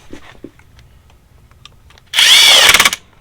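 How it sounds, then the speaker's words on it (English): A power drill spins up in a single close, loud burst of under a second, driving a screw with a rising whine and chattering clutch clicks at the end. "Take your drill"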